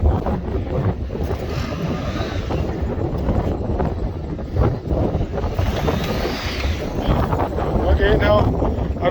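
A ground blizzard's wind roars across a ranch, a constant heavy rush with buffeting against the microphone, while people talk close by throughout.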